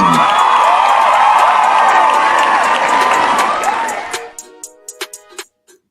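Recorded applause clap track on a live comedy talk show, a loud wash of clapping and cheering that cuts off abruptly, leaving a few scattered single claps trailing away.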